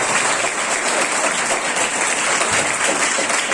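An audience claps for a child at a motivational lecture on environmental protection, dense steady applause filling the whole stretch, loud and close.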